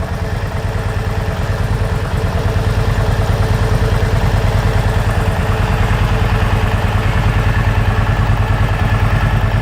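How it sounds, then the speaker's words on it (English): A Kawasaki Vulcan 750 motorcycle engine idling steadily up close, a loud, even, rapid thrumming pulse with mechanical clatter that holds without change throughout. "There we go, got the idle adjusted well."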